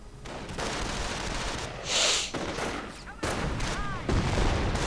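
Gunfire rattles through a 1v1 real-time strategy battle between US and Wehrmacht forces, with dense, continuous bursts of shots and explosive bangs under a steady roar, loud and busy throughout.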